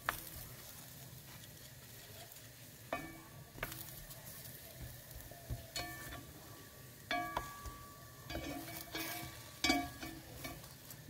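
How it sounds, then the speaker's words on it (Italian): Eggplant slices roast in a dry pan with no oil, giving a quiet crackling sizzle broken by occasional clinks and scraping sounds as the pieces are turned. "Come vedete, si stanno arrostendo."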